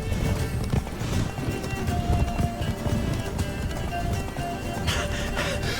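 Roach the horse gallops in The Witcher 3: Blood and Wine, a steady run of hoofbeats that stays close and loud throughout, with faint game ambience beneath.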